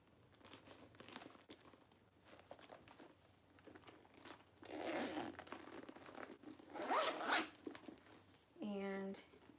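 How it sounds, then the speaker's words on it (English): The zip top closure of a designer purse is worked, giving a short, close zipper rasp near the end, after quiet handling rustles and crinkles under a soft speaking voice. "And the zip top closure with multiple inner compartments."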